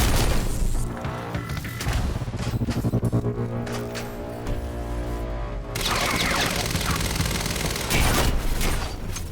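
Rapid gunfire bursts from the Quantum Break video game crack out in dense volleys, loud and close, with sharp individual shots standing out amid a steady mix of game sound.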